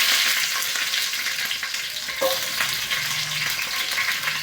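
Mustard seeds and chilli sizzle in very hot oil, a steady loud crackling hiss with small pops throughout, heard alone.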